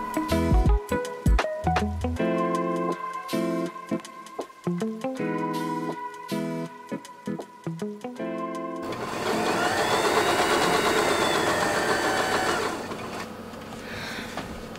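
A sewing machine stitches pants in rapid mechanical bursts separated by short pauses, then settles into a longer, smoother continuous run near the end; the sound is close and clear, with no talking.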